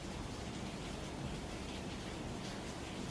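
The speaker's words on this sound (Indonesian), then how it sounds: "Sorry ya guys kalau ada bunyi hujan, sekarang di sini tengah hujan di luar." Heavy rain pours down outdoors and is heard from inside a room as a steady, even hiss with no pauses, fairly soft, and no voices on top.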